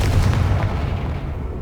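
A Confringo blasting spell explodes in the Hogwarts Legacy video game, a loud, close, rumbling boom that fills the moment and then decays into a low roar.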